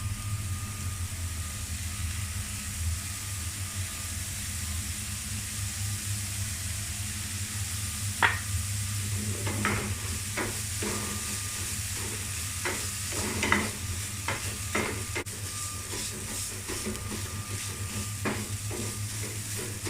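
Keto dry chili pan mee noodles stir-frying with a splash of soy sauce in a pan, a low steady sizzle with a run of spatula scrapes and clacks in the second half, close and without talking.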